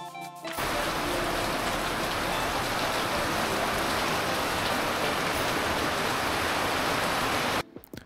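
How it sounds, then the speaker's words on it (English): Steady rain pours down on a Maldives island, Dhigurah, in the evening, a dense, loud, continuous hiss that starts abruptly and stops near the end, with no voices. "it's starting raining after such a beautiful day."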